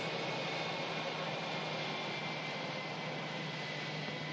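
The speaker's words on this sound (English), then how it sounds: "Louder Airbus A380 coming on in." An Airbus A380 landing at Manchester Airport, heard as a steady broad roar of engine and air noise that stays constant and fairly loud throughout, with no talking.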